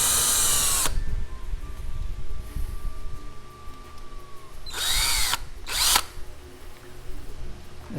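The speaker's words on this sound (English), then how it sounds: "we're going to drill the hole" A power drill bores a hole in plastic at the center of a Plenum uplift tube, with a loud whining spin at first, a long pause, then two short bursts of the motor.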